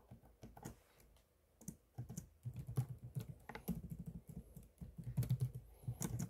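Rapid typing on a computer keyboard, close and clicky, starting sparse then building into dense, uneven streams of keystrokes.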